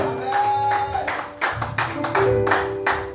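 Church congregation clapping and cheering in praise during a French-language worship service, a steady ragged round of applause with music and voices mixed in, fairly close and full.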